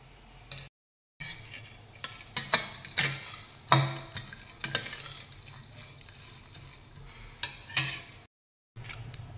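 Dry fruits and melon seeds being roasted in ghee in a kadhai, with soft sizzling under repeated scraping and stirring clatter of a spoon against the pan, close and moderately quiet, broken by two short silences.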